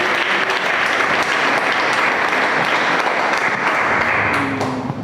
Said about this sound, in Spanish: Fuerte aplauso para Cristo.